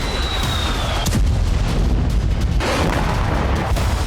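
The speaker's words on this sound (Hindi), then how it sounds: "ताबड़तोड़ बमबारी और रूसी इलाकों में जबरदस्त विस्फोट।" Bombing in the Kursk region of Russia during the Russia-Ukraine war: heavy explosions boom and rumble in a loud, sustained barrage, with a sharp blast about a second in and another surge later.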